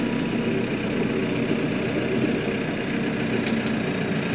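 A Case IH Luxxum tractor of over 100 horsepower driving forward, its engine a steady, loud, close drone that holds an even pitch throughout with no pauses and no speech.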